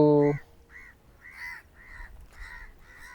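Birds call overhead at sunset, giving repeated harsh, crow-like caws at a moderate distance after a brief loud tonal sound at the start.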